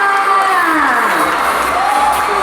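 A loud crowd cheers and whoops at a K-pop cover dance contest award ceremony at CentralWorld, with a continuous roar of voices and shouts sustained close and full for the whole moment.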